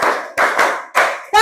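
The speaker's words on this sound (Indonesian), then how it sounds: "Tepuk 5 kali." Hands clap five times in a classroom lesson, four sharp, evenly spaced loud claps with short decaying tails, the last one cut off at the end, no voices between them.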